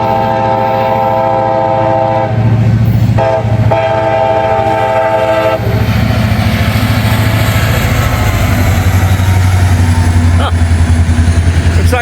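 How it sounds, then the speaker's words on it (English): Empty rail train passing at close range in Walton and Richwood, Kentucky, a loud steady rumble of wheels and cars with a sustained horn early on, the horn fading as the rolling noise continues; no talk. "Looks like it was a rail train."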